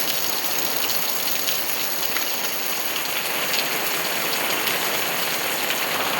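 Heavy first monsoon rain pours down in a Konkan village, a dense, steady hiss of drops on surfaces that stays loud and unbroken throughout, with no voices.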